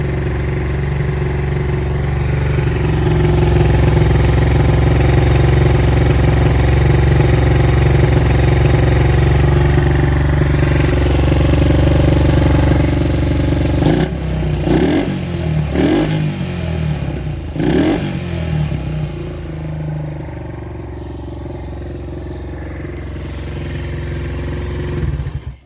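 A Honda SL100 motorcycle with a Grom exhaust and a poorly mixed carburetor idles high and steady up close, then is blipped through several quick revs before settling back toward idle.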